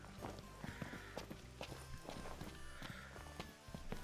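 Quick, irregular footfalls of a chocobo being ridden in Final Fantasy XV, a close patter of soft thuds over a low background hum.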